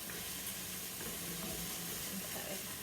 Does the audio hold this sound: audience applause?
no